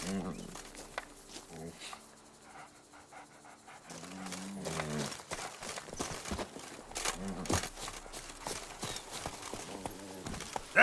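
Roach the horse clip-clops in The Witcher 3: Blood and Wine, with a steady rhythm of hoofbeats, game music and effects around them, and a voice speaking briefly near the start.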